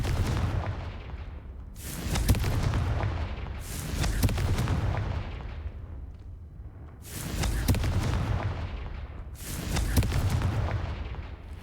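Confringo fire spell explosions in the Hogwarts Legacy video game, four heavy booming blasts spaced a couple of seconds apart, each with a loud broadband burst and rumbling decay, close and prominent.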